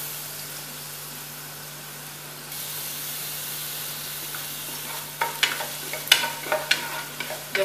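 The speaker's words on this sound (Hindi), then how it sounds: "अभी स्टेज पे मैं डाल दूंगी अपना ये क्रश किया हुआ 3 लहसुन के जबे जो मैंने क्रश कर लिए थे" Crushed garlic goes into a pan of onions and starts frying, a steady sizzling hiss that swells partway through, with stirring scrapes and clinks toward the end.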